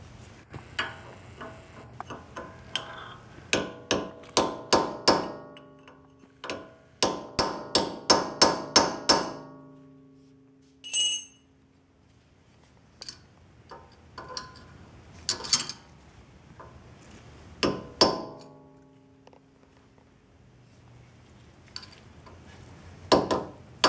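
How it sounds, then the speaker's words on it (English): Hammer blows strike a punch or chisel to stake an axle nut on a Honda rear wheel. Sharp metallic taps come in quick bursts and isolated hits with quiet gaps between them. "take a punch or a chisel and you want to stake this nut so that it doesn't back off on you"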